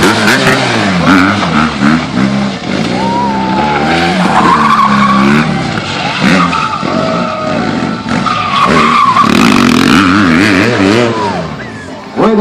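A BMW GS motorcycle is ridden through stunts in a small parking lot: its loud engine revs and climbs through the gears while tires squeal and skid, with a crowd and voices shouting over the engine throughout.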